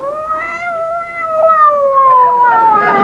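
A voice imitates a cat fight with one long, close, loud yowling caterwaul that wavers in pitch and grows harsher and more strained toward the end.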